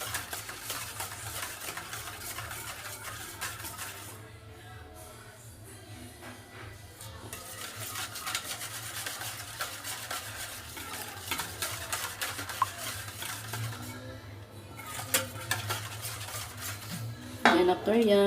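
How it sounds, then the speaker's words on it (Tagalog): A spoon clinks and scrapes steadily against a bowl while sugar is stirred into pancake batter, a continuous close rattle of utensil on dish with a low steady hum underneath and a louder clatter near the end. "haluin natin ulit para matunaw yung ating sugar"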